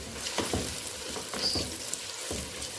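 Ginger-garlic paste frying with onions in a pan for chicken leg biryani, a steady close sizzle with soft stirring scrapes and a few rhythmic spoon knocks, no voices.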